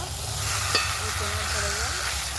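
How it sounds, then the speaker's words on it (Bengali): Chicken biryani masala frying and being stirred in a pan, a steady close sizzle with the scrape of a spoon moving through it. "আবারও ভালো করে নেড়ে দেব।"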